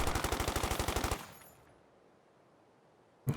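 A light machine gun in Company of Heroes 2 rattles off a rapid, evenly spaced burst of about a second, then falls silent into a faint ringing tail before one last sharp shot.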